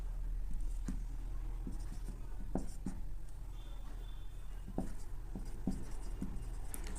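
A maths lecturer writes out advanced calculus working on differentiability of two-variable functions, with close scratchy strokes and taps of pen or chalk in irregular bursts over a low steady background hum.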